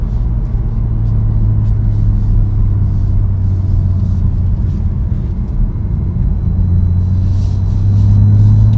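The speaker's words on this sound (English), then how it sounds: "Engine sound, amazing." A 2018 BMW M2 Coupé in Sapphire Black drives on a sunny road, its engine giving a steady, loud low rumble with a slight rise in intensity near the end.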